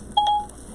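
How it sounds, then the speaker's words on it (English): A phone gives a single short electronic beep tone, clear and close, in a quiet room with no speech. "Oops, there goes my phone."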